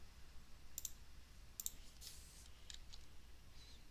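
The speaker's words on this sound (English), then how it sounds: "Large orders hitting tape" A trading platform's audio alert for large orders on the tape sounds as a few faint, sharp, bright clicks in quick pairs, spaced over a few seconds against a quiet background with no talking.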